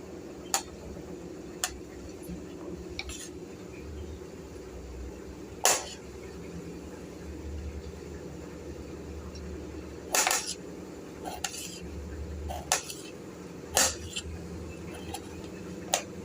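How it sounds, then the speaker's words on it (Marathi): A knife chops ivy gourd (tondli) on a board, giving sparse, sharp taps scattered irregularly over a quiet room background. "तर आता अशा पद्धतीने मी सगळे चिरून घेणार आहे तोंडली"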